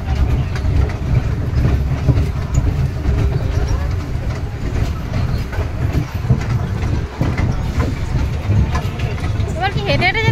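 A train rolls steadily along the rails with a continuous close rumble and rhythmic clatter from the wagons, while people talk over it throughout.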